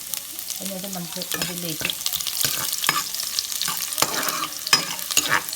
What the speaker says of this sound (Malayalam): വെളുത്തുള്ളി ഒന്ന് മൂപ്പിച്ചെടുക്കുക.